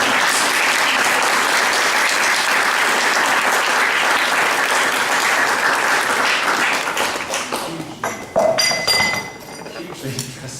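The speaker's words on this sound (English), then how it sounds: "I think it would be very kind to give a round of applause." An audience gives a loud, sustained round of applause after a talk by Christina Blacklaws of the Law Society; the clapping thins out near the end as glasses clink and a few small knocks follow.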